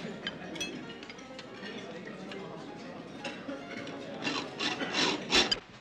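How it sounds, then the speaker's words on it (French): A saw rasps in rough, uneven scraping strokes that stay steady at first, then turn louder and harsher in a cluster of bursts toward the end, with a low murmur underneath. "Je suis désolé, mais votre scie ne coupe pas."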